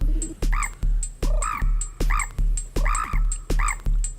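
Music built from bird-call samples on the Yellofier iPad app: looped crow-like caws and chirps repeat in a quick, even beat with punchy low thumps under each hit, loud and mechanical.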